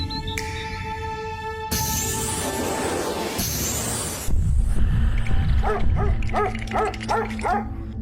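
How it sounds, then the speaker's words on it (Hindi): Several dogs bark and yip, starting after a stretch of mixed noise, then quick repeated barks in a steady rhythm, fairly close and loud over a background rumble. "इस बच्चे को तो कुत्ते भी डरा रहे हैं।"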